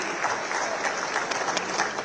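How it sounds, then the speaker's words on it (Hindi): Brief, steady clapping from a large audience at a youth rally in Indore, a dense wash of hands sounding continuously for about two seconds at moderate distance. "ताली बजाओ तो दिल खोल के बजाओ, ऐसा लगे कि ताली बज रही"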